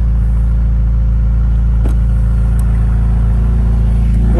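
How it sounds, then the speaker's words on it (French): Turbocharged car engine idling with a steady low rumble, turbos winding down audibly in the background while a couple of faint clicks and whooshes pass over the continuous drone. "On entend les turbos qui redescendent d'ailleurs."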